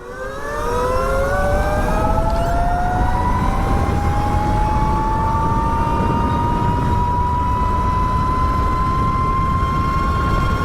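A light electric ride is pushed to full throttle in sport mode, giving a loud, steady motor whine that rises in pitch over the first seconds and then holds as a sustained tonal drone with no talk.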